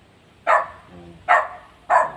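Three sharp dog barks spaced apart, fairly close, with a faint low hum between them.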